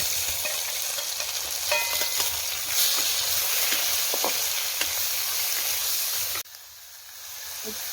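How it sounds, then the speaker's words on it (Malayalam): Crushed shallots hit hot oil with ginger and garlic, a loud, continuous sizzle with scattered stirring clicks that abruptly drops to a softer hiss near the end. "ഇനി നമുക്ക് ഉള്ളി ഇട്ട് കൊടുക്കാം ചതച്ച ഉള്ളി"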